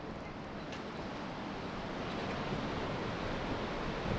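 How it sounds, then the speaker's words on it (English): Big ocean waves breaking at a beach in Morocco make a continuous broad roar of surf, steady and fairly faint, with no voices over it. "These waves are definitely big as shit."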